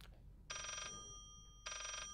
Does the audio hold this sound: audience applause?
no